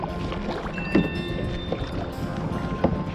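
Paddle strokes on the water at Xel-ha in Mexico, soft splashes and dips from a small boat, with two clearer paddle hits among steady water and wind noise, no talk.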